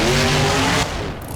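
Monster truck in BeamNG swings through a turn with its engine roaring and tires squealing loudly up close, then the skid cuts off abruptly into a lower rumble.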